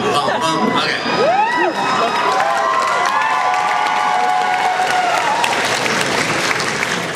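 A Q&A audience breaks into loud, sustained applause mixed with cheers, whoops and high shouts, filling the whole stretch as a dense, close crowd roar.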